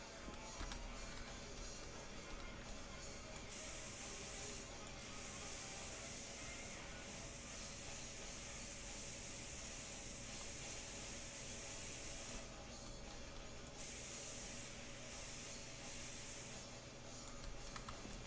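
Continuous hiss of a spray gun applying paint to a truck door in a diesel truck shop, steady and close for the whole stretch with brief pauses in the spray, no talking.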